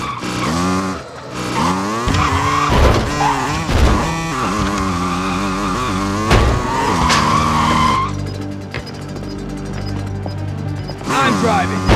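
A vehicle drives and skids in a battle royale shooter game, loud sliding tire noise and engine roar mixed with chaotic game sounds, while people talk over it throughout.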